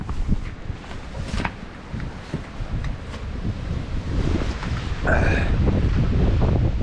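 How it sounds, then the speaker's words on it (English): Strong, blustery cyclone wind roars and buffets the microphone in uneven gusts, surging louder toward the end, with a brief whistling tone near the close. "just these intermittent gusts of extremely strong winds"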